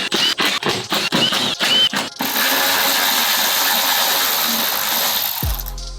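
Loose broken parts rattle and clink inside the wrecked engine of a McLaren 675LT, first as a burst of sharp metallic knocks, then a continuous jangling grind that ends with a low thud.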